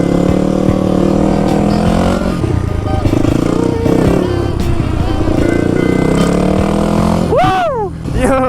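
Four-stroke supermoto motorcycle engine running steadily up close throughout while riding, with rising and falling revs, a sharp rev sweep near the end and some clatter.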